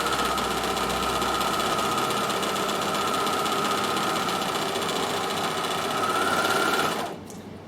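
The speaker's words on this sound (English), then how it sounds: "So I'm going to overlock both of these at the same time." An overlocker sewing machine runs steadily on fabric, a close, continuous fast whirring hum lasting several seconds before stopping abruptly.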